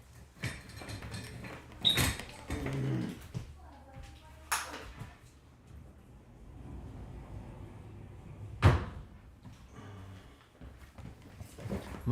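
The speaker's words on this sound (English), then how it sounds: "Hold on, I gotta close my door." A door closes with a sharp thud near the end, after scattered bumps and handling noises in a room, with someone talking intermittently before it.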